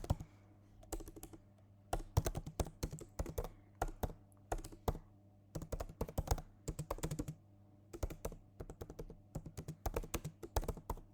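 Someone types steadily on a computer keyboard, writing JavaScript, with irregular bursts of crisp close-up keystrokes separated by short pauses and no talking.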